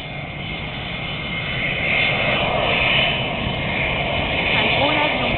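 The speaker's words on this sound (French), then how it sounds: "Voilà, un gros avion." A large jet aircraft engine roars steadily nearby, swelling slightly in loudness midway with a broad, continuous whine.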